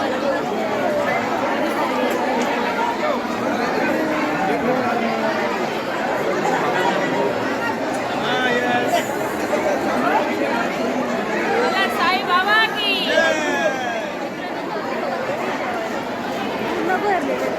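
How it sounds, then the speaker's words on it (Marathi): A large crowd chatters at a Sai Baba palkhi procession meal, a dense, continuous babble of many voices that stays loud and steady throughout. "मित्रांनो गर्दी बघा किती जेवायला बघा"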